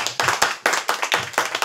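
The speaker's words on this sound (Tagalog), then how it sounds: "Palakpak sa Panginoon." Loud, close rhythmic clapping at a church revival crusade, a crowd striking hands together in a steady, fairly quick beat of about seven claps per second, with no talking over it.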